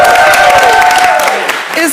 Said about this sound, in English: Let's just give them one more round of applause.